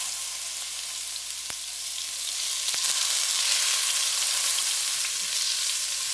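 Half a pound of 80-20 ground beef sizzles steadily in hot oil for air fryer nachos, a continuous bright crackle with a couple of sharp utensil taps. No one speaks.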